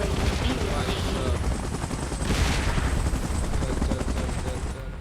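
A helicopter in a monster-battle action scene flies close and loud with a steady rotor roar, mixed with rattling bursts that resemble gunfire throughout.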